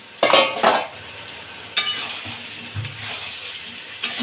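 Half-cooked potatoes go into sizzling masala for an egg and potato curry, with a few sharp clinks and scrapes of a spoon against the pan over a soft, steady sizzle.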